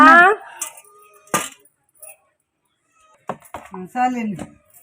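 Cats meow near a fish-cleaning spot, with two or three clear mewing calls between spells of nearby voices and a few sharp knocks.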